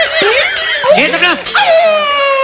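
A woman imitates a dog's crying on a comedy stage show, with whimpering, yelping vocal wails that rise and fall in short bursts, loud and close.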